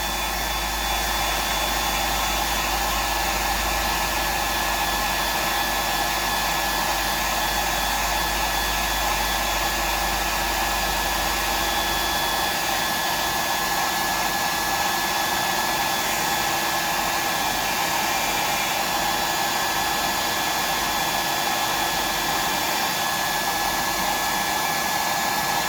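A hair dryer blows steadily and loudly for the whole stretch, drying paint on a Bug DD fishing lure, with a low rumble in the first half that drops away.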